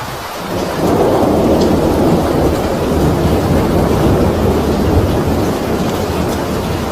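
Heavy downpour with rolling thunder over a city and its surrounding highlands during severe flooding, a dense, loud, continuous roar of rain that swells after the first second and holds steady throughout, with no voices.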